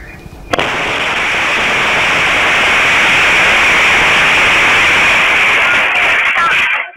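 A house in the Taman Palem Lestari housing complex in Cengkareng, West Jakarta, blows up after a gas leak, caught on a security camera. A sudden loud burst is followed by a sustained, harsh roar of noise that cuts off abruptly.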